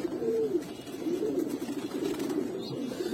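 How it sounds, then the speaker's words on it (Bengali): A male Giribaz pigeon coos in a continuous, close, low warbling run of throaty notes lasting a few seconds, with no talking over it. "এটা 13 দমের কবুতর ভাই,"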